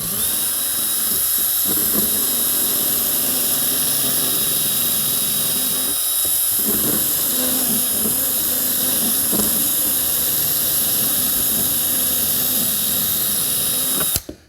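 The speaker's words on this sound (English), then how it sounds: "take a little carbide. It's called a burr, and we can go ahead and clean this up and get it down level." A carbide burr on a high-speed rotary tool grinds down ATV plastic with a continuous shrill whine, close and loud, briefly dipping as it bites and then cutting off at the end.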